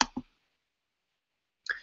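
Computer mouse clicks: two quick sharp clicks close together at the start, then silence, then another crisp click near the end, close and clear with no talking.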